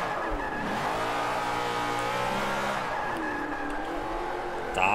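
A race car drifts and skids in Forza Motosport 5 on Xbox One, its engine revving and swooping in pitch with a continuous tire slide, loud and steady throughout.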